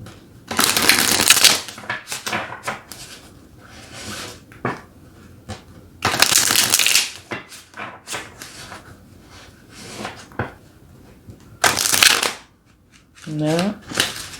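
Tarot cards being shuffled in crisp, loud bursts of riffling, each a second or so long and repeated several times with quieter pauses between them, alongside brief bits of talk.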